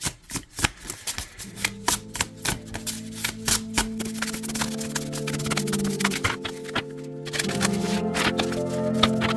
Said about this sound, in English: I'll speed this up so that I can give it a good proper shuffle.